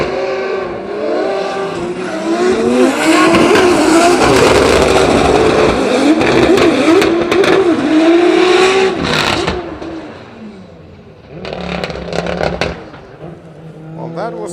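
A Toyota Supra drift car at a Drift Masters practice session in Italy roars and revs loudly up close, its engine note rising and wavering, then fades before further revving bursts and tire noise return.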